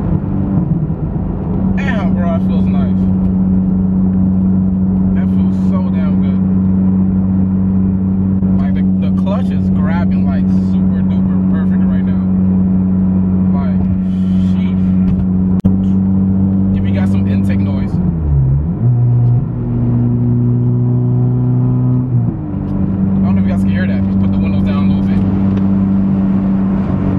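A 9th generation Honda Civic Si running on E85 gives a loud, steady engine drone from inside the car, with pitch shifts as it shifts gears, while people talk over it.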